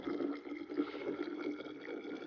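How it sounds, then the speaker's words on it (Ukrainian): Hot water is poured into a bottle in a continuous, soft, steady trickle, fairly quiet and close, with no talk. "Гаряча вода. Ми її наливаємо в нашу пляшку."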